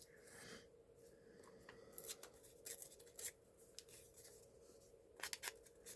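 Scissors snipping through a paper sticker, a few quiet, close, crisp cuts in irregular bursts with soft paper rustles between them.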